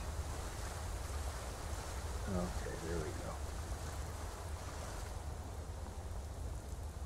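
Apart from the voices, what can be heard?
character wading through water in video game Skyrim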